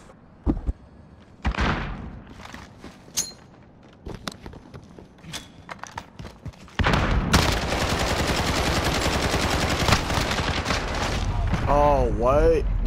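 Gunfire in a Search and Destroy match on the Noah's Flood map of a CoolMath browser shooter: scattered sharp shots, then a loud, sustained automatic burst running to the end, with some talk early on.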